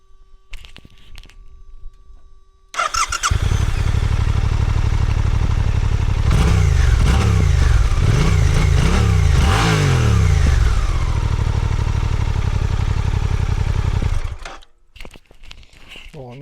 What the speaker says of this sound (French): je vais te faire écouter le son du moteur.